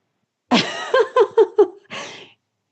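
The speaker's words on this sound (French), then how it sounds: "il a éternué" A three-month-old baby gives a quick series of small sneezes and snuffly breaths, close and clear against silence.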